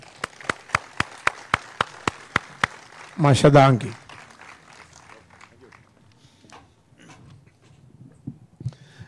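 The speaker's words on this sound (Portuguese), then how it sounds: "Aplauso hopi forte para Frankie" A small group claps in a steady, even rhythm at a tribute gathering honouring Frankie Brandão, about ten crisp claps, followed by a brief loud vocal burst and then a speaking voice over a quiet room.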